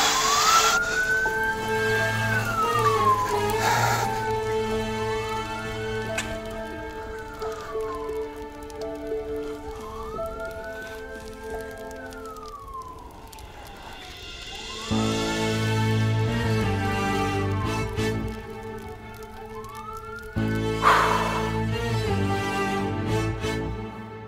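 A police car siren wails in long rising and falling sweeps across the whole stretch, loud and close, over rain-like patter and a shifting background mix.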